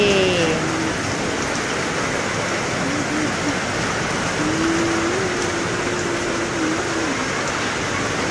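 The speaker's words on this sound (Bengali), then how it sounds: "বৃষ্টি পড়া শুরু হয়ে গেছে।" Steady rainfall hisses evenly throughout, a constant wash of drops on surfaces with a faint vehicle hum underneath.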